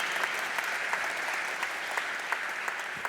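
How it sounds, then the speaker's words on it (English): Audience at a comedy festival applauding steadily, a dense, even wash of many hands clapping at moderate volume for the whole stretch, with no voices over it. "I thought you'd get a round of applause then,"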